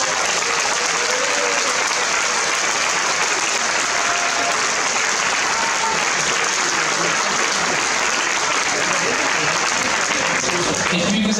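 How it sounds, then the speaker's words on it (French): Sustained audience applause at a Bol d'or 2016 sailing prize-giving in Geneva, steady and dense throughout, with talk and a few voices faintly underneath. "j'aimerais à qui vous réserviez un tonnerre d'applaudissements à tout ce comité d'organisation"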